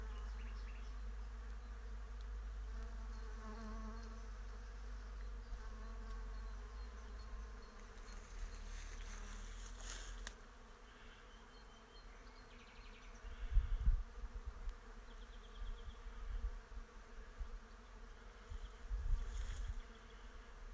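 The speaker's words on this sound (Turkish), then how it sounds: "Beyaz kiraz bahçesinde arı sesleri" Bees hum steadily among the blossoms of a white cherry orchard, a continuous, fairly faint drone that holds throughout, with a few louder low thumps and rustles of wind or handling partway through.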